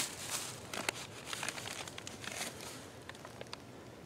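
A mailed Amazon package is unwrapped up close, with dense crinkling and crackling of paper or plastic and a few sharp tearing rips throughout.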